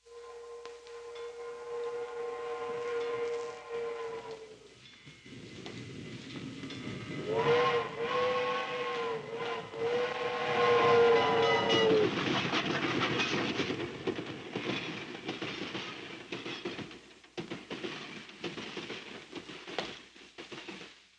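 A steam train's whistle blows two long, loud blasts as it rumbles past, wheels clattering and steam hissing, fading toward the end, in a 1954 film.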